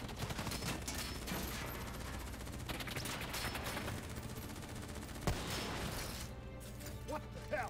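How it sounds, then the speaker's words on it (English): Gunfire in Call of Duty: Black Ops 3 during a campaign mission in Singapore, a dense continuous barrage of shots with impacts and mechanical clatter, loud and steady throughout, with voices talking over it. "Who's shooting?"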